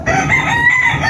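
A Lucky Gold over Papay Gray broodcock crows close by in one sustained, strained call lasting about a second, with no talk over it.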